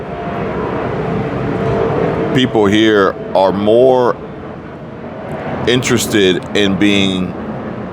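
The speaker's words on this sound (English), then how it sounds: "I'm gonna let this plane go by." A fixed-wing airplane passes overhead, heard as a steady broadband roar that runs beneath the whole stretch while a person talks over it in the foreground.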